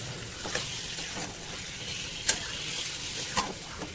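Marinated mutton stirred and fried in a pan over a high gas flame: a steady broad sizzle with scraping spoon strokes and a few sharper clinks, close and continuous, with no talking.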